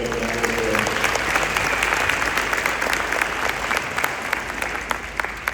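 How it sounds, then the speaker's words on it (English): Audience applause at a school 5th grade Christmas band concert: a dense, steady wash of many hands clapping, loud and sustained throughout with no break. "Give that guy a big round of applause for having Bill."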